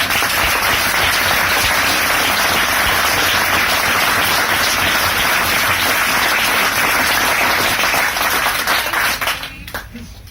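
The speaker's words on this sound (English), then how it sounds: "So one last massive round of applause." A massive, continuous round of applause and clapping from a crowd on a boat at the end of the Scumrun 2017 charity rally, loud and dense, fading out in the last second.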